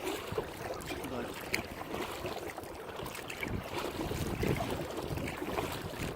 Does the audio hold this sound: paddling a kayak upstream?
yes